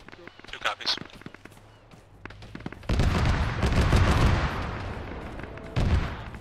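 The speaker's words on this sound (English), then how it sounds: "Why are we advancing towards the explosions?" Explosions and gunfire in a military shooter game: scattered sharp cracks at first, then a loud, sustained rumbling barrage that swells and carries on to the end, with a final burst.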